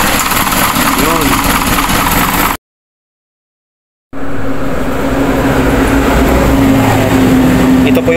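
An Isuzu Elf truck with a 4HL1 engine and a faulty bendix starter drive, giving a loud, continuous mechanical clatter and rumble that cuts out briefly and then resumes, with some voices in the background.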